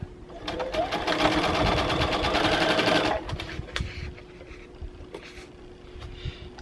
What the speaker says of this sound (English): I'm just going to chain piece these units through the machine